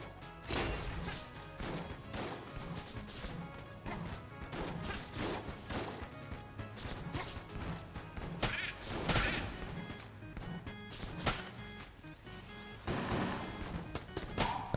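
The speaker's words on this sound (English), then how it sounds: "Not sure how they get a shotgun type weapon out of something called a pulse gun, though." A pulse gun firing like a shotgun in Enter the Gungeon, with repeated sharp crackling bursts at an uneven rhythm over steady game music, loud and close throughout.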